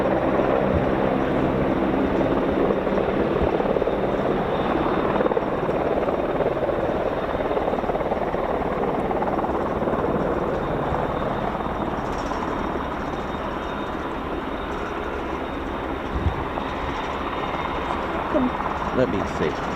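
A Portuguese Merlin Mk 514 helicopter departs at the RAF Fairford air show, its loud, steady rotor and turbine roar filling the whole stretch while a person talks over it.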